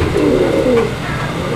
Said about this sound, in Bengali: এটা হচ্ছে মাদি কবুতরটা